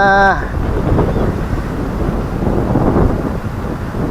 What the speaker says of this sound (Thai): ลมพัดวีวีมาอีกแล้วจ้า